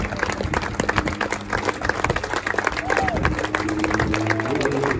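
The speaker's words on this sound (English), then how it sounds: "any round of applause for a great match challenge" Outdoor applause from the crowd after an NCAA Division I men's singles tennis final, scattered claps from a modest audience with some chatter and movement, continuing steadily for several seconds.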